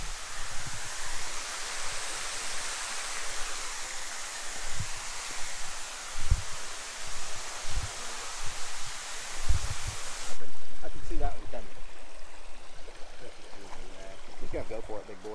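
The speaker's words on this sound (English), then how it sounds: "We're behind the waterfall." A waterfall heard from a cave shelter behind it, a constant rushing hiss of falling water close by, with footsteps and thumps on rock and people talking intermittently over the roar.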